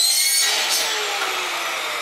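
A hand or power saw cuts through pipe for a homemade water project, giving a bright, loud, continuous rasping grind that holds steady close to the listener.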